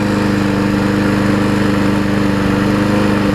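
A Murray self-propelled lawn mower engine on a new carburetor runs steadily and loudly at a constant idle-like drone, close by, with no voices.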